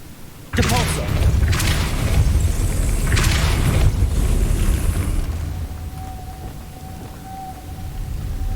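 A spell cast in the Hogwarts Legacy game lands as a sudden loud magical boom and rumbling whoosh, sustained for several seconds before fading into quieter background hum with a thin steady tone.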